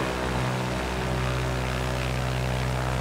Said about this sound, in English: the only realistic sounds that this simulator comes with is that of the prop planes